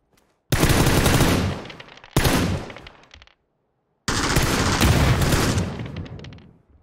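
PUBG gunfire rings out in three separate loud automatic bursts, each a few seconds long, with abrupt starts, fading tails and silent gaps between them.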